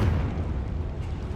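A Confringo fire spell from Hogwarts Legacy bursts into a loud, close explosion with a deep rumbling blast that fills the short moment.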